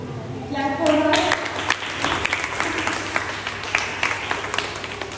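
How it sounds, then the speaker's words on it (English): Classroom applause for a young student after her speech in a Class 4 English lesson, scattered children's clapping with distinct individual claps, mixed with kids' voices and chatter. "Clap for her."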